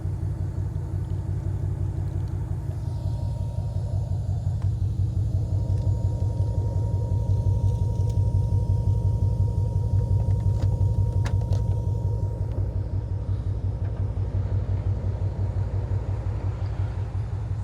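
A Dodge Challenger SRT rumbles steadily through a Cook's exhaust piped into the lower valance, a deep continuous idle burble held close and loud throughout.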